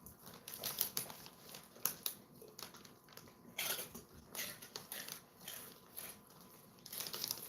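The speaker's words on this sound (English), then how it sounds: "I like hearing that munching noise they make." Basset hounds crunch and munch on bacon ends in quiet, irregular bursts of crackly chewing and biting, close by and fairly faint, with no one talking.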